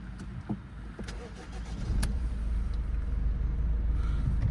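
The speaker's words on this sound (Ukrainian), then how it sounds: "Завівся автомобіль гарно, працює рівненько, зауважень немає" A 2017 Ford Focus with a 1.5 diesel engine is started up close: a few clicks and cranking, then the engine catches around two seconds and settles into a steady, even idle.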